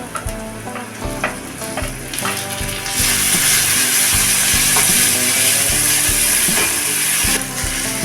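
Onion sautés in a pan, a close crackling sizzle with scattered stirring clicks that swells into a louder, denser hiss midway and holds steady, with no talking.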